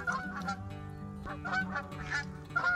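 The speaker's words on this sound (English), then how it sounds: "The geese have joined me, as you can hear." Geese honk repeatedly beside a boat beached on the bank of the River Lynher, several loud overlapping calls close by in quick irregular bursts with no talking.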